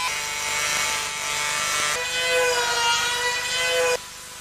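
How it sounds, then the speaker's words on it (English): An Arbortech Industrial Woodcarver power tool runs loud and steady with a high, whining tone, cutting through material in sustained passes that briefly change pitch before it cuts off near the end. "It bites through modern acrylics, plastics and epoxies"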